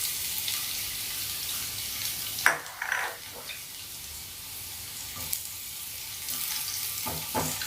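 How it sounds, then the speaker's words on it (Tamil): Crushed garlic joins cumin seeds frying in hot oil, giving a close, steady crackling sizzle. A brief clatter of stirring or a spoon comes near the middle, and there is no speech. "இப்போ நம்ம தட்டி வச்சுருக்கோம் இல்லையா, அந்த பூண்டு இது கூட சேர்த்துக்கலாம்."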